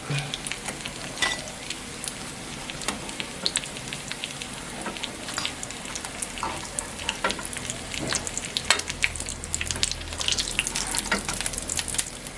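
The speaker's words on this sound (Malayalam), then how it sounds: "അപ്പോൾ നമ്മളുടെ ബാക്കിയുള്ളതും കൂടി ഇവിടെ ഫ്രൈ ആയിട്ടുണ്ട്." Iftar snacks deep-frying in a pan of hot oil, a steady crackling sizzle with scattered pops and bubbling throughout, close and fairly quiet, with no voices.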